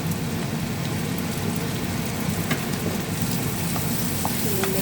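Garlic, whole green chilies, curry leaves and tomato sauté in hot oil for a fish gravy, giving a continuous close crackling sizzle with scattered small pops.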